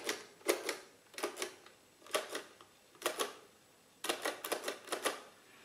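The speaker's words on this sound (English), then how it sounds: "So on this side, you have an ordinary adding machine." An ordinary mechanical adding machine with six digits and three input columns, operated in short bursts of sharp clicking and clattering strokes, clustered taps separated by brief pauses, close and fairly quiet.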